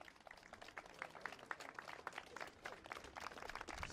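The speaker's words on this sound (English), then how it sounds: "Round of applause for those drivers." A crowd applauds the drivers at a Club100 kart sprint championship round at Clay Pigeon, with steady scattered clapping that sounds distant and fairly faint.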